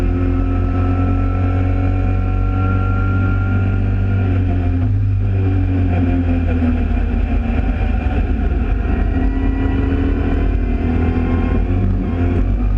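A Mini Challenge race car's engine drones loud and close at Silverstone's Grand Prix circuit in wet conditions, a continuous heavy in-car engine note with a slight dip midway and no break throughout.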